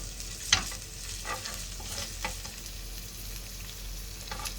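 Minced garlic frying in hot oil gives a steady, close sizzle with a few light clicks from stirring, no voices over it.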